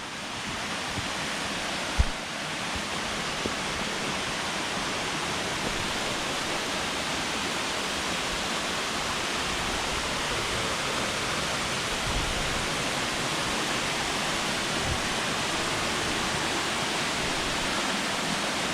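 Steady roar of a roughly 17-metre waterfall in Pekel gorge, Slovenia, a dense, continuous broadband rush that stays close and loud throughout with no talking.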